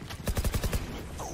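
Rapid automatic gunfire in the video game Valorant, a burst of about eight evenly spaced shots followed by a brief pause and another shot at the end, loud and close.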